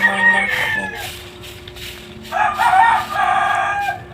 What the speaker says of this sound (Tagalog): Saba kay mga manok, daghan gid kay mga manok diri